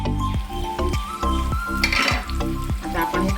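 Potato and banana slices sizzle steadily in a pan while a utensil scrapes and turns them, giving repeated clinks and scrapes against the metal over the continuous frying hiss.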